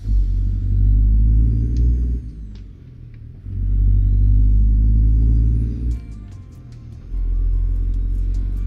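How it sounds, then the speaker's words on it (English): A Detroit Diesel 60 truck engine in American Truck Simulator drones in deep, loud rumbling swells that rise and fall three times, with no voices. "The calm sound of the Detroit Diesel 60."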